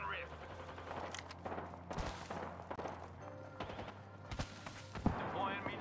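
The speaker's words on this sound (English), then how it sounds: "They're shooting at me." Bursts of rapid gunfire from enemies in the shooter game Apex Legends, several sharp volleys and thuds spread over a few seconds amid game sounds and a speaking voice.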